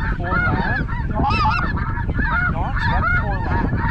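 Geese flying in during a goose hunt in Alberta honk loudly and repeatedly in an overlapping chorus of many birds, with a low rumble of wind underneath.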